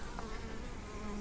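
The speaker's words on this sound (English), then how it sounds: "Lots of bees." Honey bees buzzing thickly around an open hive during a late-summer inspection, a dense, continuous hum close by with no talk.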